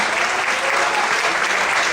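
A church congregation at a morning worship service bursts into applause, a thick, even roar of many hands clapping continuously and fairly loudly throughout the short span.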